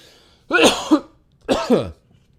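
Two harsh, close coughs, each a rough double burst, separated by a brief pause in an otherwise quiet room.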